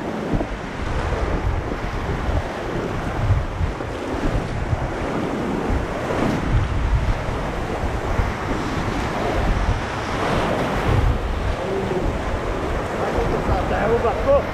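Ocean waves and surf roll in continuously around a rowing boat, a broad, steady wash of water blended with wind buffeting the microphone, with occasional shouted voices.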